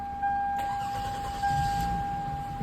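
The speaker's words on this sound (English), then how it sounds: "Car's back up and running." 2002-2006 Toyota Camry engine starting after an alternator replacement: a short crank catches, then the motor settles into a steady idle, close and fairly loud.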